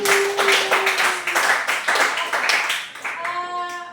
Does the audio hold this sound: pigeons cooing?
no